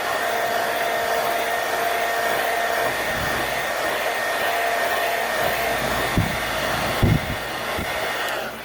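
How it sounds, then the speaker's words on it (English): A small blow dryer runs continuously to dry paint on a jar, giving a loud, steady whooshing hum with a couple of brief bumps near the end and no talking. "We will hit it one more time with our little blow dryer."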